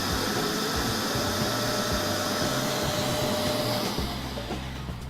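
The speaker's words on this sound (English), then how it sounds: "The loudest robot vacuum that we tested." A Neato XV Signature Pro robot vacuum cleaner runs with a loud, steady jet-like whine and roar, close up and continuous, easing slightly near the end.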